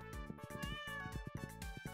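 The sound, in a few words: cat meowing in the video game Stardew Valley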